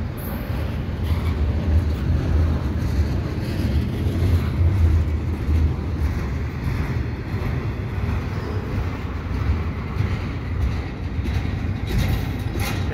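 A CPKC eastbound intermodal freight train passes at Dorval in the evening, a steady, loud low rumble and rolling roar that lasts throughout without a break and with no talking.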